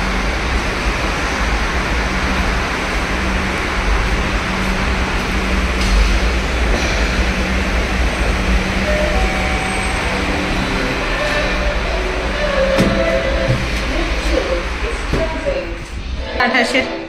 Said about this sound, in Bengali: এই মেট্রোটা এলো, এটাই 9:28 যাবে।